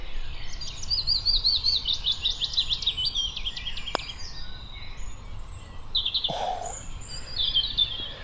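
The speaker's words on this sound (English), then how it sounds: "Lovely willow warbler." Willow warbler song on a Welsh hillside golf course: repeated descending warbled phrases, fairly near and clear, with quieter bird calls later and a steady outdoor background; no talking.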